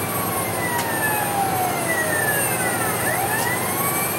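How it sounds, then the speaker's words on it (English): A police car siren in Grand Theft Auto Vice City wails alone, smooth rising and falling sweeps sounding steadily and loud with engine rumble beneath. "There's no off switch for the siren."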